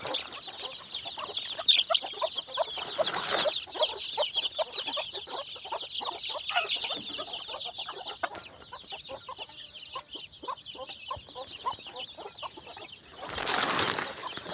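Hens and chicks in a farm shed cluck and peep busily while pecking at feed and earthworms, a dense chatter of short calls close by with occasional wing flaps.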